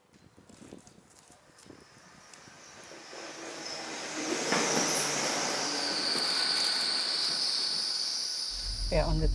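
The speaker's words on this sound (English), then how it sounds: "We're on the train now" A passenger train rolls along the railway between Great Malvern and Worcester in the UK, its steady rumble and rising wheel hiss growing louder and holding close, with a faint high squeal near the end.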